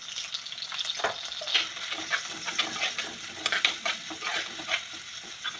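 Garlic, ginger, shallots and onions with curry leaves frying in a pan for a coconut fish curry, a steady crackling sizzle with occasional stirring scrapes, close and continuous with no talk.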